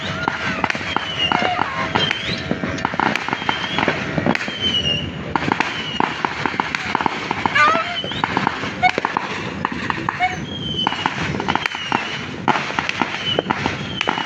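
Firecrackers and fireworks go off during New Year celebrations, a rapid, irregular barrage of loud cracks and bangs, some near and some farther off, with voices faintly audible in between.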